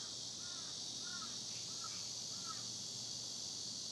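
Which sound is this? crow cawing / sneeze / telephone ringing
crow cawing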